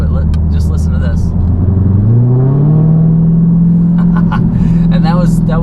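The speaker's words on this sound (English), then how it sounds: "you're buying this car for the motor, but just listen to this." A 707 hp Dodge Challenger Hellcat Widebody V8 idles with a deep burble, then revs to about 2,000 RPM and holds a higher drone, loud and close, with brief crackles.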